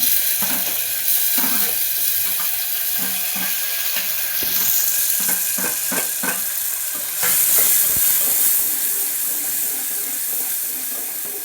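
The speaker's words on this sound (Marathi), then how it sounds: "आता ह्याला 5 मिनिट मी अशीच मस्त तेलामध्ये शिजू देणार" Tomatoes fry in oil with a constant close sizzle, while repeated stirring scrapes and knocks break in at an uneven rhythm throughout.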